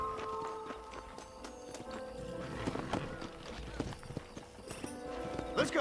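Horse hooves clip-clop in a steady walking rhythm in the Red Dead Redemption video game, mixed with in-game effects and a bit of ambience, while a voice speaks over them.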